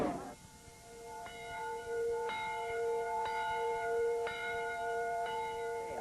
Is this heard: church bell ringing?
yes